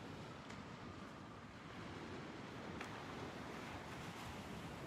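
Ocean surf rolls in a continuous wash of broadband noise, fairly faint and steady with slight swells, no voices over it.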